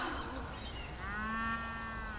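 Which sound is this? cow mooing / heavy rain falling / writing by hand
cow mooing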